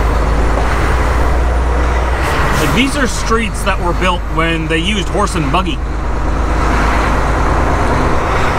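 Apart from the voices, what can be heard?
big trucks driving down Chicago street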